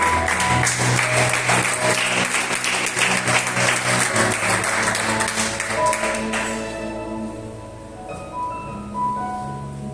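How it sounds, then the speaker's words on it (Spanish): A church congregation applauds during a sermon, dense clapping for several seconds that fades out, leaving sustained music tones and faint background sound. "Dale un aplauso al que vive en él."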